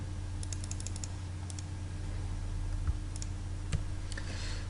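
Mouse clicks on a computer while zooming out of an object in CorelDRAW X7, a few sharp taps scattered over a steady low electrical hum, with no one talking.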